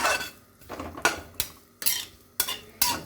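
Laddu mixture roasting in ghee in a pan, heard as a series of sharp scraping, clattering strokes of a spoon against the pan, about seven in three seconds, close and fairly loud with no voices.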